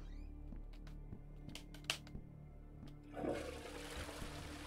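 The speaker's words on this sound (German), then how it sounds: "Klospülung betätigen geht schon mal." A toilet flushing inside a firefighting video game, with a short rising rush of water that swells in the final seconds over a steady low background hum.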